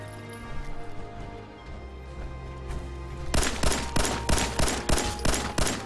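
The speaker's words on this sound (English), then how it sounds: "Opening fire." Gunfire in the video game Fallout 4, with a rapid, loud burst of automatic shots that starts partway through and repeats in sharp, evenly spaced cracks over a low background hum.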